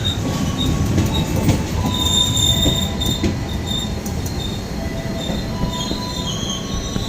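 On board the Batavia executive passenger train, the wheels squeal sharply over a constant loud rumble of running stock, with faint clicks along the rails and no voices.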